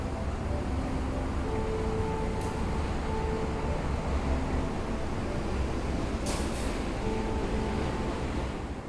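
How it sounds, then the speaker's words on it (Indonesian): The Blorasura passenger train from Cepu pulls into track 4 at a station, a loud, steady wash of rumbling roar with faint sustained engine hums and a couple of brief sharp squeals, no voices. "Kereta yang masuk di jalur 4 itu ya, kereta Blorasura dari Cepu teman-teman."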